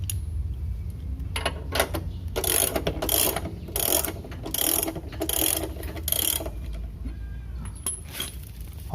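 Ratchet wrench turning the screw of a car jack, a close series of quick clicking bursts in an uneven rhythm over a low background hum, with no talk.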